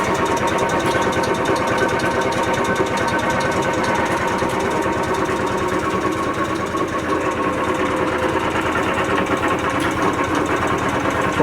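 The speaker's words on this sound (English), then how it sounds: "to open the bed, change the direction of the feed" Power feed moving the bed of an 18"/36" LeBlond sliding bed engine lathe, a steady loud mechanical whir and rattle with gear chatter running continuously, no voices.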